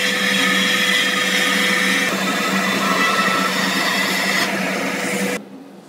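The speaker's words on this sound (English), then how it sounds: "the easiest way is actually to use a bandsaw if you're lucky enough to own one" A bandsaw cuts cleanly through wood for a garden stool, making a loud, steady mechanical whirring and rasp that holds for several seconds before dropping off abruptly as the cut finishes.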